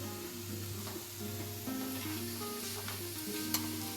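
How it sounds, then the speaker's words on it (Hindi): Koftas fry in hot oil, giving a dense, steady sizzle and crackle with occasional sharper pops, heard close and continuous without talk. "कोफ्ते हैं वो हम सारे फ्राई कर लेंगे।"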